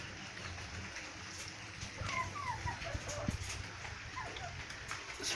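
Kadaknath chickens in a high-tech cage for egg production give scattered soft clucks and brief squawks against a constant noisy farm background, faint and somewhat distant, with no clear talk.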